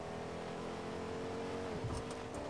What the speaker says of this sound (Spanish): Allá viene otro en otro carro.